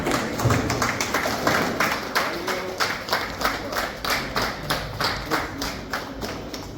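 Applause from an audience at a Lions Club general meeting in Nadiad, steady dense clapping from many hands filling the room for the whole stretch, fairly loud and continuous.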